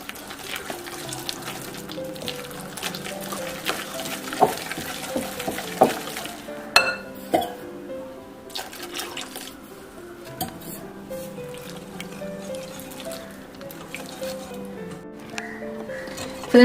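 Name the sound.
water being mixed into rice flour batter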